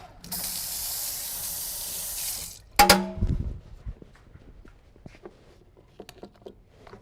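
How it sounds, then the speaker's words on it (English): Tap water runs steadily into a sink for about two seconds, then a spoon clatters against the basin and the faucet shuts off, leaving quiet kitchen clinks and rustles. "I got to wash this spoon real quick."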